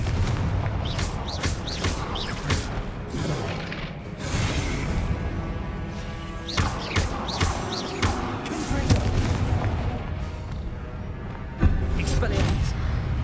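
Confringo fire spell explosions in the Hogwarts Legacy video game, a series of loud booms and sharp blasts amid ongoing combat clatter, with a voice calling out spells over the action.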